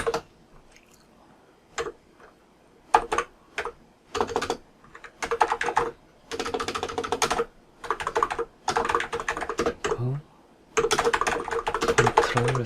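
Someone types on a computer keyboard, producing bursts of quick, close key clicks separated by short pauses, with no one talking.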